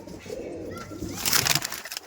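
Malbayi pigeons cooing nearby in a short burst of soft, throaty coos that swell toward the end, with a light rustle in the background.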